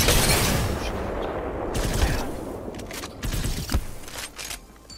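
Gunfire from firing range dummies in Apex Legends, a dense rattle of rapid shots that stays loud throughout and thins out toward the end.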